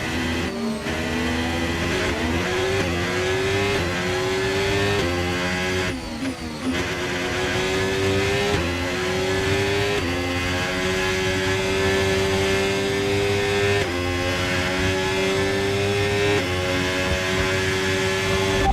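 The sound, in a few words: Formula 1 race car engines in F1 25 video game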